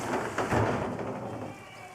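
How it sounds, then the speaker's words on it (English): Rain falling outdoors, a steady broadband hiss with a louder gusty swell early on before settling into an even patter. "Raining, raining, raining."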